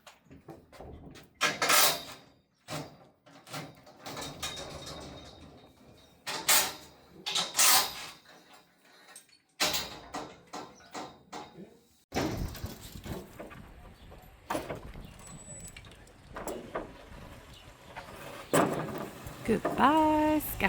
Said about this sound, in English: You can also hear the scaffolding coming down in the background